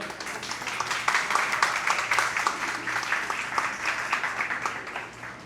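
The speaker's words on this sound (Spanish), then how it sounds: "Un aplauso, por favor." Live show audience applauding at a season-closing event, a steady dense wash of clapping lasting several seconds at moderate loudness, with no speech over it.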